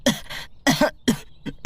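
A man coughs loudly in several sharp, close bursts, a couple of them doubled, with short silent gaps between and no speech.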